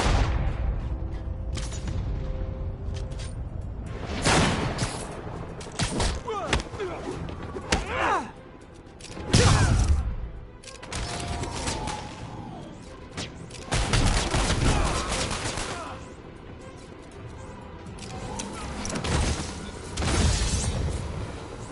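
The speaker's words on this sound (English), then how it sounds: "Officers are under fire from snipers." Gunfire in a PS4 video game as snipers shoot at police officers, with scattered loud shots and booming blasts and some rapid bursts, heard over background game audio with intermittent voices.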